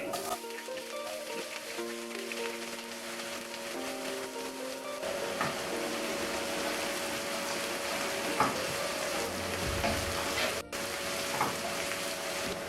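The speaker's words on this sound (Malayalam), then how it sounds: "നമുക്കിനി ഇതിലേക്ക് കുറച്ച് ഉലുവ ചൂടാക്കണം" Fenugreek seeds frying in very hot oil for a fish masala fry: a faint, steady sizzle and crackle that grows busier partway through, with occasional clinks and no talk.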